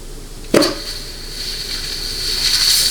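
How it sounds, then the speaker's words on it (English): Compressed air hisses from a worn, cut air nozzle during a low/reverse air check on a 700R4 or 4L60E transmission: a sharp burst opens, then a thin, steady hiss lingers close by. "That little bit of hissing was because of this nozzle right here."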